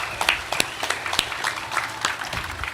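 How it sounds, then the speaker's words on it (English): An audience at a sprint car racing stage show at Knoxville Raceway claps in steady, moderately loud applause with sharp individual claps standing out, with no voices over it. "So give him a round of applause, ladies and gentlemen."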